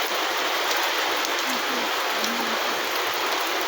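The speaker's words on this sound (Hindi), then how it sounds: "बस्ती जिले में बारिश हो रहा है।" Rain falls steadily in a village in Basti district, Uttar Pradesh, an even, continuous wash of drops on surfaces at moderate loudness, with no voices over it.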